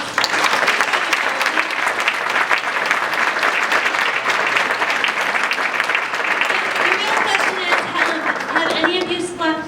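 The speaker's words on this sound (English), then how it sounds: "A big round of applause." A conference audience applauds steadily for nearly ten seconds, a dense, even wash of clapping from many hands, with voices faintly audible toward the end.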